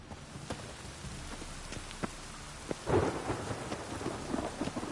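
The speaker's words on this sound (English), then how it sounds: "It just rains and rains." Rain pours steadily through a thunderstorm in the video game The Witcher 3, with a rumble of thunder rolling in near the middle and scattered sharp drops and taps over the constant hiss.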